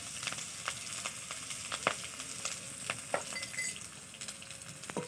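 Panch phoron spices with chopped green chilli sizzling in hot oil for a Bengali fish curry; a quiet, steady frying hiss runs throughout, with scattered crackles and pops.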